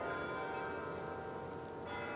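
Church bells ring together in a sustained, rich, overlapping peal that sounds steady and fairly distant, with no speech over them.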